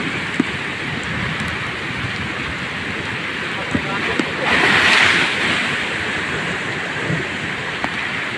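Strong ocean surf roars in a continuous broad wash, close and loud, with a swell near the middle and a few faint clicks.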